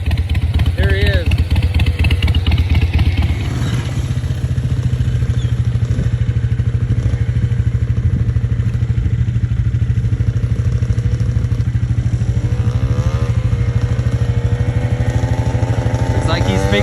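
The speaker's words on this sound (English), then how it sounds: "we'll just jump on Mama's little Sportster and go see if we can find him" A Harley-Davidson Sportster motorcycle engine runs loud and close with a steady low rumble, briefly revving before settling into a continuous drone as it pulls out of a driveway, with some clatter and wind noise.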